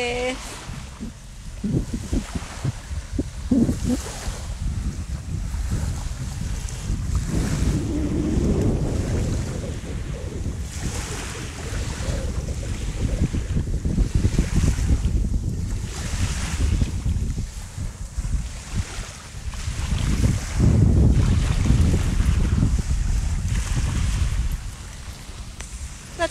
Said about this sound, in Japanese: 海でーす。